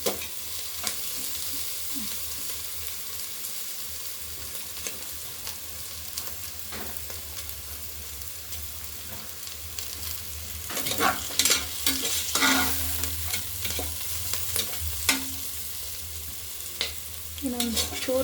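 Ingredients for vegetable pulao fry in a pan with a steady sizzle and spoon scraping from stirring, growing briefly louder and busier midway through.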